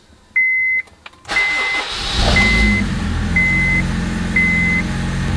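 Repeated electronic chimes sound in a Honda Civic FD before the key turns and the starter cranks, the engine catching and settling into a steady idle while the chime keeps pinging at regular intervals.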